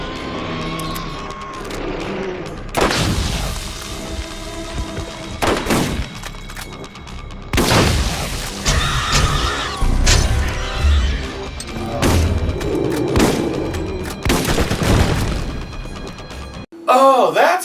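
Repeated bursts of gunfire in the Borderlands video game are aimed at a rakk hive, sounding loud and sustained amid booms and engine-like game noise.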